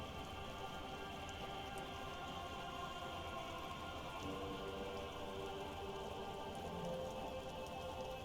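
Steady rainfall in Disco Elysium, an even, continuous patter of drops on surfaces holding at a soft, constant level beneath a faint tonal hum with no voices.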